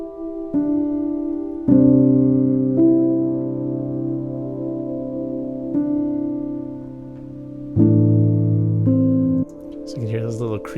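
Soft, reverb-soaked piano in an ambient style, sustained chords swelling and fading one after another over a faint noise floor, with small creaks and cracks surfacing near the end.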